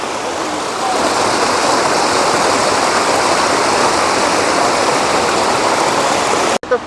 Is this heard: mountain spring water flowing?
yes